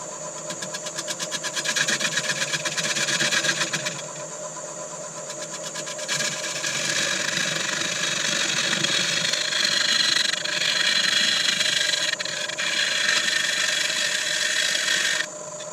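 A wood lathe turns a fruit bowl at 500 RPM, giving a steady, continuous mechanical whir with a faint tonal hum. It runs alone with no talk, and its level shifts slightly as the cut changes.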